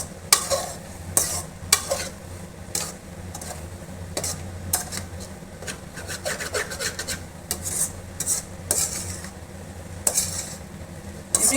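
Egg and capsicum fry in a pan while a spoon stirs and scrapes against the metal in irregular strokes over a steady, close sizzle, with no talking.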